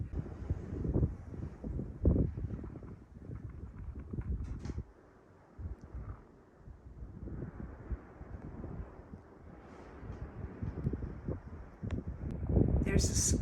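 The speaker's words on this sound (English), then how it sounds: "Whew, I can feel the wind already." Gusty wind on a mountain top buffeting the microphone, a steady low rumble that swells and eases, with someone talking intermittently.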